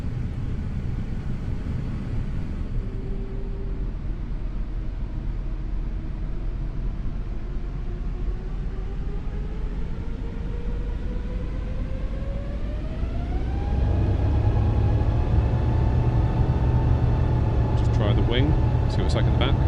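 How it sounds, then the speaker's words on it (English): Airbus A350 engines in Microsoft Flight Simulator spool up for takeoff with a loud, steady roar and a slowly rising whine that climbs further and grows louder near the end. "that will give us a little bit more time to listen to the engines on takeoff"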